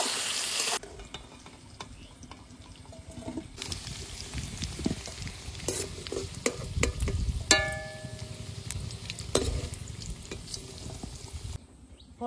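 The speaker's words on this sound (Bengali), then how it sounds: "এবার আলুগুলো ভালো করে ভেজে নেব।" Potatoes frying with salt and turmeric during a village picnic cook-up, a close sizzle broken by repeated stirring scrapes and clanks of a utensil against the pan, with a bright metallic ring partway through.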